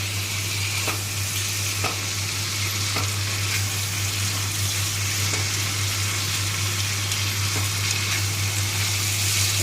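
Masala with potatoes frying and being stirred for a vegetarian soybean muitha, a steady close sizzle with faint periodic scraping strokes of the spoon, continuous and alone without talk.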